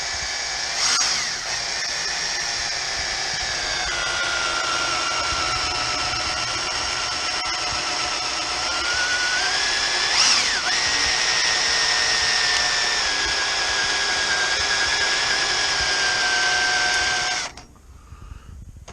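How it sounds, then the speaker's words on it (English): A power drill bores steadily through the steel body panel of a 1974 classic Mini during restoration, a continuous close whine that dips in pitch under load for about seventeen seconds before cutting off. "drilling through here like this"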